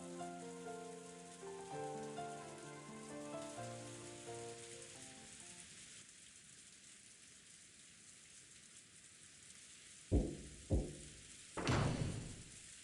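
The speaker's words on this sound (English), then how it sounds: "the obnoxious pounding of the rain against the window" Video game rain pounding against a window, a steady hiss of rainfall continuing after soft background music fades out, then a few sharp thuds like knocks near the end.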